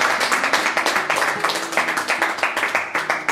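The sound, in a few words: applause for the quiz winner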